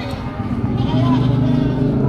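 A goat bleats at a livestock market, a loud close wavering cry lasting about a second amid crowd murmur and background noise.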